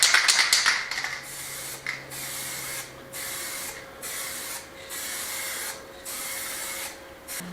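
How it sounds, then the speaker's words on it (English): An aerosol paint spray can hisses in a series of short, regular bursts, about one per second, close by and fairly loud, after a clattery start. "When you finish spraying with a can, turn your can upside down and spray it till no paint comes out."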